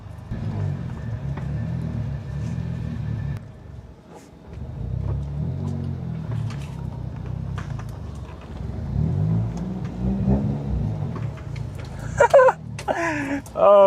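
A second-generation Mitsubishi Eclipse rumbles along with a low, steady engine drone and a few revs, while someone talks over the driving noise and a sharper squeal rises near the end.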